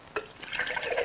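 Water pouring into a can's worth of Snowcrop orange juice concentrate, a short splash onset followed by a steady close trickle that runs to the end.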